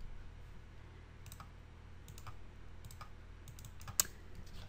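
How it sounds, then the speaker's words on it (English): Clicks from a computer keyboard as a name is typed into photo-editing software, sparse, light keystrokes scattered over a low hum, with one sharper click near the end. "So I select it and I'm going to type in Monica."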